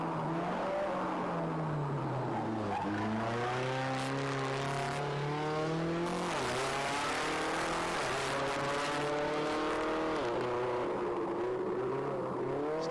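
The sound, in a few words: turbocharged Mitsubishi Evo rally car racing uphill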